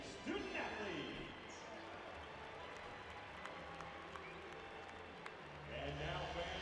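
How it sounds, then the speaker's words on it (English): A basketball arena crowd at a men's college game between Maryland and Rutgers applauds student athletes, broad steady clapping and cheering from the stands that swells at the start and end, with an announcer talking over it. "Fans, let's give a round of applause for these outstanding student athletes."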